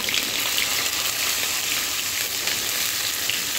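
Pointed gourd (potol), slit down the middle, frying in hot oil in a pan, giving a steady, dense sizzle that holds at an even level throughout with no talking.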